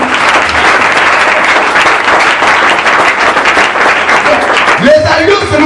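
A church congregation at a French-language service bursts into sustained applause and cheering for Jesus, with dense clapping filling the room while a voice carries on speaking above it.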